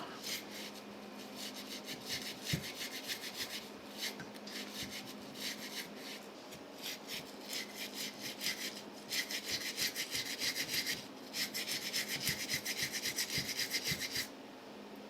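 A nylon brush scrubbing a Nissan 350Z cylinder head, a rapid back-and-forth rasping in close, rhythmic bursts with brief pauses, heard alone.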